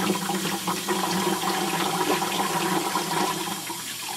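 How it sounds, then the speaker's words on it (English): Tumbled rocks being rinsed of soap under running water in a sink, a steady, loud, continuous rush and splash of water that fills the whole stretch with no talk. "Now we're just going to rinse the soap off of them best you can."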